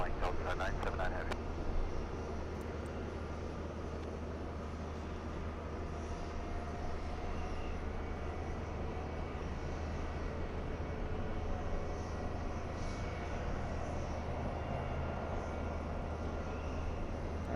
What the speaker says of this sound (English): that's the A330 flying to New York